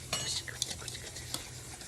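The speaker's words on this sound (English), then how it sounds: "while she whisks it" Powdered eggs and milk whisked in a bowl, a quick run of soft clinking and scraping strokes at close range, fairly quiet, with faint background noise.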